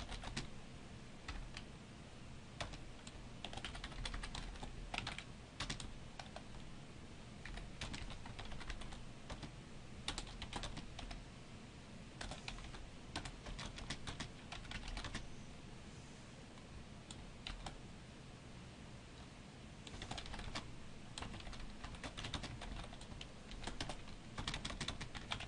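Steady computer keyboard typing while writing code for a loop, a continuous close patter of key clicks with brief pauses, no talking, running throughout.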